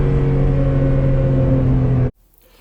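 A mid-engined Renault Clio V6 holds a loud, steady revving engine note for about two seconds before it cuts off abruptly, leaving near silence.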